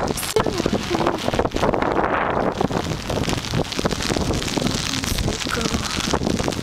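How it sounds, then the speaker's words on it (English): Steady, heavy rain pours outdoors on a wet day, a loud unbroken wash of hiss and patter with a gusty, wind-like roar throughout. "Hear the rain."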